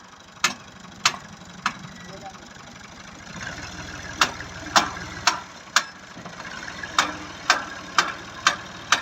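A tractor engine idles while the tractor is stuck in a ditch, giving a steady mechanical rumble with a regular series of sharp clanks in the second half.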